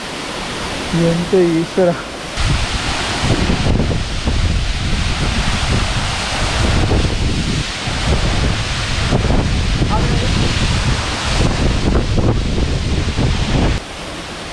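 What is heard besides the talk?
Kadamagundi waterfall in Karnataka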